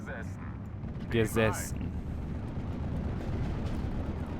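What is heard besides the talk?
fuel explosion of a vehicle in the video game Steel Division: Normandy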